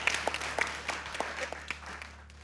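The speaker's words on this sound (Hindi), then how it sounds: "अजीका ने फौरन तालियां बजाई" Scattered hand clapping in a TV studio, a few sparse, uneven claps from a small group, fairly close and brief rather than a sustained ovation, over a low background hum.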